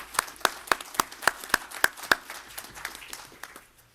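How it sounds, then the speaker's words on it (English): At a city council meeting, a sparse round of applause honors a councilmember: a handful of distinct, evenly paced sharp claps stand out clearly, then fade into softer, scattered clapping that dies away. "let's give him a round of applause for that"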